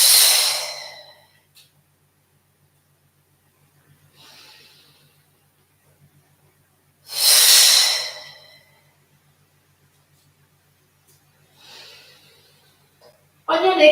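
Deep breaths during a wood chop yoga exercise: a long, loud inhale or exhale at the start, fainter breaths between, and another full drawn-out breath midway, with a soft rhythmic ticking underneath and a short voice at the end.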